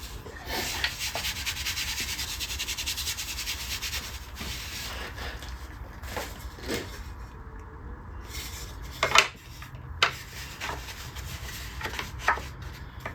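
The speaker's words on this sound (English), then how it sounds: "I think I could do the rest with a chisel." A chisel pares the wood of a bass guitar body close by. Several seconds of continuous rasping and scraping give way to separate scrapes and sharp knocks, with no talk.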